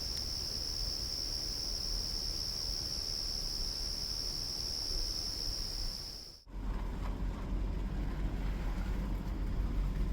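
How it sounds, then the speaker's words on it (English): Steady, high-pitched cricket chirring fills a thick forest in the Darjeeling hills at night during the monsoon, then cuts briefly before resuming against a quiet outdoor background with no talking. "The crickets were reminding us that we are in a thick forest."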